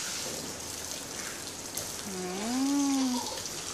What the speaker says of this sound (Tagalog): Oh, shower, shower. Shower, nak, shower.